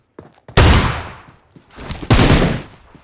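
Two bursts of heavy gunfire in PUBG Mobile on the Livik map, each a loud sharp volley that trails off, with a few small clicks and taps before the first.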